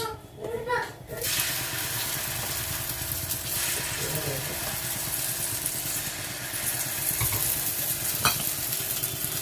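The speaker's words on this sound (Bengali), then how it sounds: "খুব ভালো করে তেল বুলিয়ে নেবে আগে তাওয়াতে, তাওয়াটা বেশ গরম হবে তারপরে দেবে।" Rice-flour batter for sorucha kli sizzling on an oiled hot tawa, a loud continuous hiss close by, with brief voices in the background early on.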